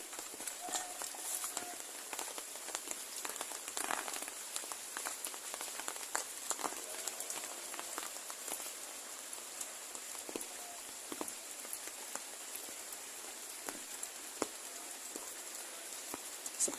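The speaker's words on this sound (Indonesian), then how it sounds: "Dan saya mau melihat seperti apa suasananya di kampung ini kalau lagi hujan ya." Steady rain pattering on surfaces around a West Java village, a dense even hiss with scattered sharper drips throughout, no voices.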